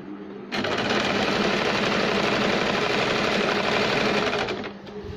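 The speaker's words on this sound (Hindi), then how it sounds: "इसे हम इस तरह से फोल्ड करके सिलाई लगाएंगे मोहरी को" A sewing machine stitches the folded hem on the leg opening of a baby capri, running in a steady, close, rapid mechanical clatter for several seconds before it slows and stops.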